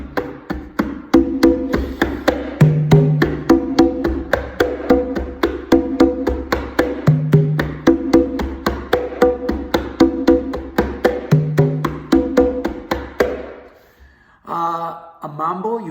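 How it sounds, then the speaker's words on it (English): Congas play a lively cha-cha-cha rhythm, quick steady open tones and slaps repeating in a dance pattern, close and loud, then a brief pause and a few more strokes near the end. "A cha-cha-cha, which is a little faster, it's also meant for dancing, but it's a little more lively, is like this."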